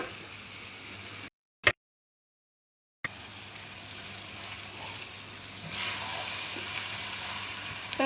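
Chicken and lamb keema curry sizzles in ghee in a pan, a steady frying hiss broken by a short gap and a sharp clatter, then a louder scraping stir toward the end.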